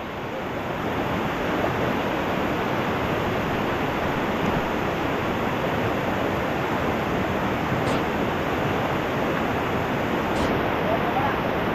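Rushing high water of the Dumacaa River, a dense, continuous roar of flowing water filling the scene, loud and steady throughout with no letup.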